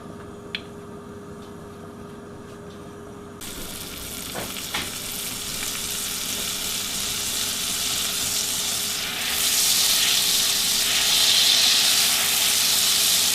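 Gravy sizzles steadily in a hot pan as Worcestershire sauce is stirred in for Salisbury steak, with a continuous bubbling crackle and a few scraping stir sounds, the sizzle growing louder toward the end.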